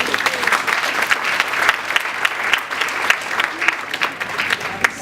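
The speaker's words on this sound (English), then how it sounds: "You gotta give yourselves a round of applause." An audience at an Inspired Living event in Jamaica breaks into dense, lively applause, a close and steady wash of many hands clapping throughout.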